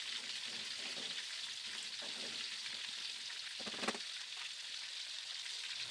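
Sautéed Indonesian spice paste for pesmol mackerel, thinned with extra water, sizzles and bubbles steadily in a pan, a close, even hiss broken by one brief scrape near the end, with no voices.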